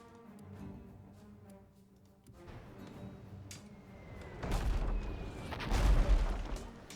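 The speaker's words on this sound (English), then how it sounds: "I think I'm gonna fire one more mortar and one more of these." Mortar shots and booming impacts during a naval battle in the video game Abandon Ship, a series of heavy thuds growing louder toward the end over a continuous rumbling background.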